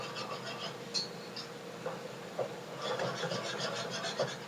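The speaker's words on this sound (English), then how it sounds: "I'm going to give this a whisk." Whisking in a mixing bowl makes soft, rhythmic scraping and rubbing strokes close by with faint taps, fairly quiet throughout.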